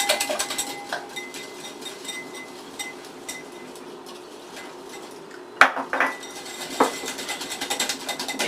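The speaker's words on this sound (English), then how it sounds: "Then I'll mix them up, adding that sugar" A utensil scrapes and clinks against a bowl while sugar is mixed into doughnut batter, with scattered light taps and a few sharper knocks against the rim, fairly close.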